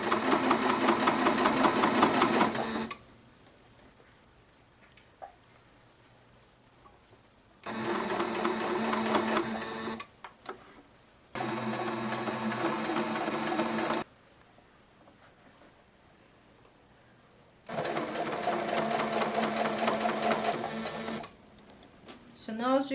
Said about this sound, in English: So now I'm go back to machine and I'm gonna just go around it.